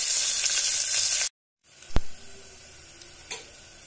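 Onion, green chili, garlic and ginger hit hot oil in a pumpkin curry pan, giving a loud steady sizzle that cuts off abruptly, then resumes more quietly with a sharp clink and a brief stir.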